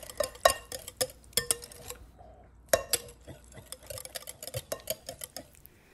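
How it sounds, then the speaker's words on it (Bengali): A spoon repeatedly scrapes and taps against a bowl while semolina cake batter is mixed with milk cream, close-up irregular clinks and clacks in bursts with a short pause, no voices. "এভাবে আবারও আমি খুব ভালো করে মিশিয়ে নিব সমস্ত উপকরণগুলোর সাথে।"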